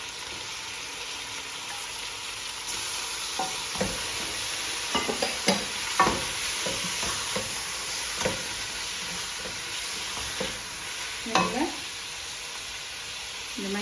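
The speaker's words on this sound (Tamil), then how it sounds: "நான் இந்த இறாலையும் இதுக்குள்ள போடுறேன்" Prawns sizzle in hot oil in a pan for prawn biryani, with a steady frying hiss and intermittent scraping clatter of stirring over about fourteen seconds, and faint talk underneath.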